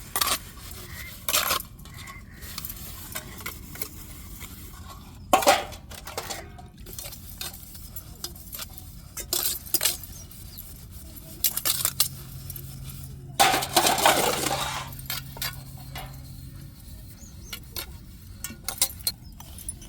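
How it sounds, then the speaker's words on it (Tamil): Household dishes, pots and utensils clatter and clink while being washed, giving scattered metallic knocks and brief rattling bursts in a quiet room, with occasional faint sounds between them. "பாத்திரங்களை ஃபுல்லாக விளக்கி கழுவி எடுத்துக்கிடுவோங்க"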